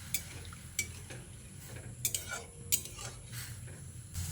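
Chopped gathi kochu (taro) is stirred with salt and turmeric in a pan, giving scattered light clinks and scrapes of a utensil against metal over a soft, steady background.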